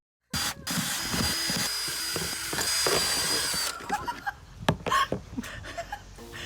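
A power drill whines steadily as it bores holes in a plastic bog garden pot for carnivorous plants, running for about three seconds before stopping, followed by scattered knocks and light handling clatter.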